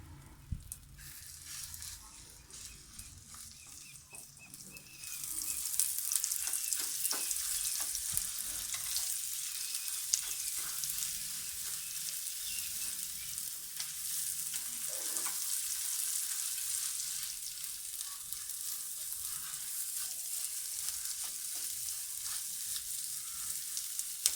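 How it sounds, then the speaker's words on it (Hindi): Egg shami mixture with chopped coriander and green chillies frying in a pan on a low flame, a steady close hiss of sizzling that rises after the first few seconds and holds evenly throughout, with no one talking. "फ्लेम को बिल्कुल लो रखना है और इसी तरह से इसको 3 से 4 मिनट तक हम अच्छी तरह से फ्राई कर लेंगे"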